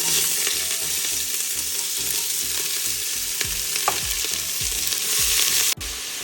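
Onions fry in a modest amount of oil, a strong steady sizzle close by with rhythmic scraping as a spoon stirs them around the pan.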